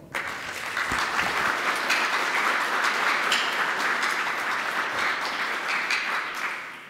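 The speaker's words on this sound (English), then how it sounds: "So give him a warm welcome and a round of applause." A dense round of audience applause welcomes a physics department speaker to the stage at a talk on robotic microscopy, steady and sustained for several seconds before tapering off at the end.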